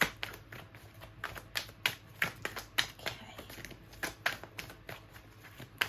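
Tarot cards being shuffled by hand: a quick, irregular series of crisp riffling snaps and soft slides, close and fairly quiet, with no talking.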